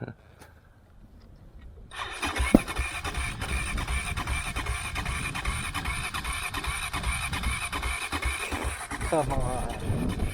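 A Honda CRF 450 motorcycle engine is cranked and catches, going from a quiet start with a mechanical clatter into a loud, steady rattling idle that revs slightly near the end, with voices nearby.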